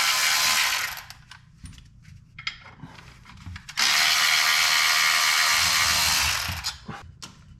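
Loosened fasteners coming off a Porsche 911 996 during a clutch job: loud bursts of fast ratchet clicking, close up, with quieter tool handling and small metallic knocks between them.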